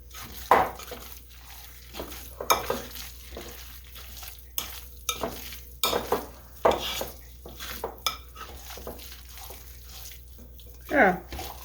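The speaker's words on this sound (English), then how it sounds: "What I'm doing right now is just making sure that all the meat has been combined real well with the other ingredients." Ground meat being hand-mixed with oats and other ingredients for meatballs makes wet squelching and slapping bursts in an irregular rhythm, close and fairly loud, with speech in between.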